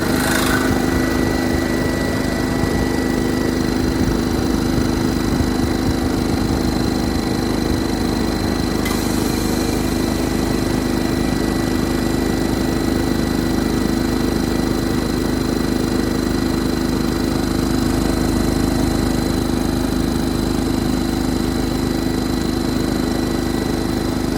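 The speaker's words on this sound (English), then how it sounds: "Now I'm going to start the compressor." A compressor on an Alkin unit starts and runs, giving a steady continuous mechanical hum and drone that holds level throughout without pause.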